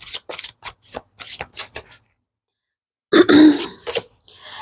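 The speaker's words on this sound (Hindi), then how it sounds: "सबसे पहले मैं कार्ड्स निकाल लेती हूँ गाइस" Tarot cards are drawn and shuffled in a quick run of crisp flicks and taps, then a pause, followed by a denser burst of card rustling.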